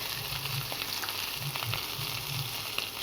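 Onions frying in a pan with ginger-cumin paste, salt and turmeric, a continuous crackling sizzle with soft low stirring scrapes recurring close by.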